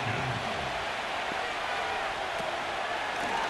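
Steady roar of a stadium crowd in an American football video game, Washington Commanders against the Chargers, building on a third down; a dense, continuous wash of cheering noise fills the whole stretch with no clear break.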